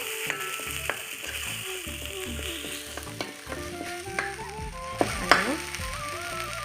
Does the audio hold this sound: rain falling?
no